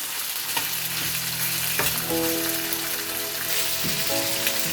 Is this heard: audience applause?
no